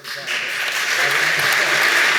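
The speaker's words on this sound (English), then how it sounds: "you've anticipated the second measure of thanks by a warm round of applause" An audience at a College Historical Society anniversary event bursts into a warm, dense round of applause, rising quickly and holding steady over a couple of seconds.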